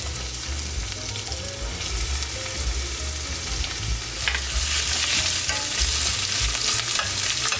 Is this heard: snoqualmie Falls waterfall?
no